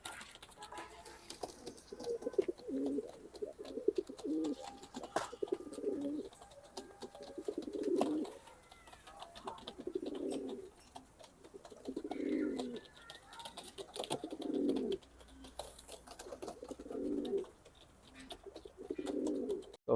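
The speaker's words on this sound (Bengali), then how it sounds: "সাপচোকের একটা কবুতর, নর কবুতর" Male racing pigeon with a single white feather, cooing in repeated low rounded phrases about every two seconds. It is close and moderately loud over a faint background.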